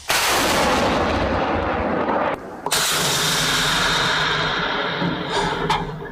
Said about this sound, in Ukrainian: Тепер машина залпового вогню здебільшого стріляє ось так по одній ракеті